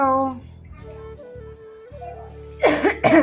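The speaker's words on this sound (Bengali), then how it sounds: "কাশিস" Two short, harsh coughs burst out close and fairly loud near the end, after a stretch of quieter steady tones in a home room.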